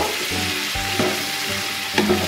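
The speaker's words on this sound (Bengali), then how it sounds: "খুব ভালো করে নাড়িয়ে আমি ঢাকা দিয়ে দেব" Potato korma, a Bengali vegetarian dish made without onion or garlic, is stirred in a pan over a low continuous sizzle, with a few soft knocks and scrapes from the spoon.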